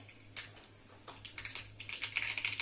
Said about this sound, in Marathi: आता यात मोहरी टाकणार आहे.